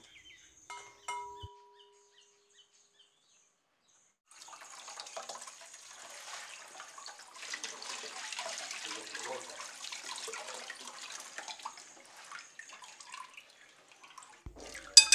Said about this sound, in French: Lavez 300 g de dal gram ou chana dal.